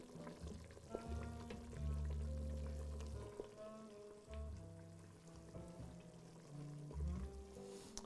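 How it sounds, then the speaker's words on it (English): Grilled cheese simmers and sizzles in a frying pan, a soft, continuous crackle and hiss heard quietly and close, with low rumbling and faint tonal noise running beneath it. "How does the sound of the simmer compare to the sound of the sizzle?"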